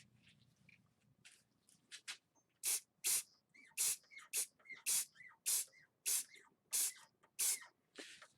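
An activator for CA glue is sprayed as a light mist over a carbon fiber and Amboyna burl wood ring from about a foot and a half away, giving a string of short, sharp hissing bursts that grow more regular and close together.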